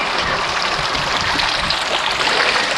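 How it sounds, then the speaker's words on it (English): Water trickling and burbling into a small garden pond in a moss garden, a steady close wash of bright flowing water with no pauses and no voices. "I have water because water is also part of my soundtrack of life"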